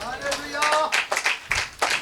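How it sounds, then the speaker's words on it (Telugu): An audience at a church gathering claps loudly in several sharp bursts of applause, overlapping with a voice speaking at the start. "చప్పట్లు కొట్టండి గట్టిగా"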